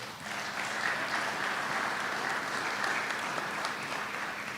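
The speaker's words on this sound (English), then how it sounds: "Let's give him another applause." Audience applause fills a room at a state bill signing ceremony in Kentucky, steady and dense from start to finish, moderately near with no talk over it.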